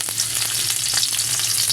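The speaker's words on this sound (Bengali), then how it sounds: "তেলটা দেওয়ার পর আমি এই যে পেঁয়াজটা এটা ভেজে নেব।" Onion fries in hot oil in a kadai with a steady, dense sizzle that stays loud and even throughout, with a few soft stirring scrapes.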